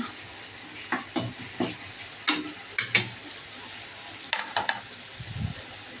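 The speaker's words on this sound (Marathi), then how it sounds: "तेलामध्ये चांगलं फ्राय करून घ्यायचं." Soft oily sizzling of tomatoes frying in a pan, broken by repeated clinks and scrapes of a spatula stirring, close by with no talking.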